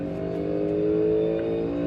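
Stock cars at an All-Star race, Roger Penske's Fords among them, hold a steady, droning engine note as they lift off the throttle into a corner, a sustained mid-distance roar with no talk.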